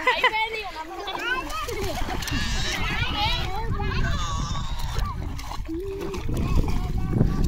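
People splashing while swimming in an outdoor village pool, continuous lively water splashes mixed with children's shouts and chatter throughout.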